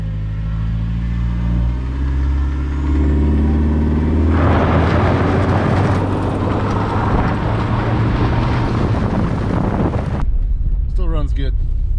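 A turbocharged Chevrolet Cobalt woody wagon pulls away from a standing start, its engine building from a low idle into a loud, rising rush of revs and wind noise before cutting off, with a short burst of speech at the end.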